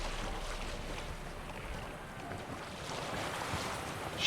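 Sailing boat in The Witcher 3 pushed along by wind, a steady broad rush of wind and water noise with gentle swells and no distinct events, no voices.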